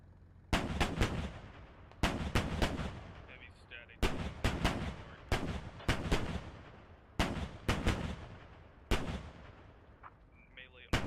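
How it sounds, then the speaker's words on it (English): Gunfire in the video game Squad, heavy weapon firing on infantry from a mountain overlook: six loud bursts of rapid shots in regular clusters about every one and a half seconds, each followed by a decaying echo. "He's just firing onto that infantry."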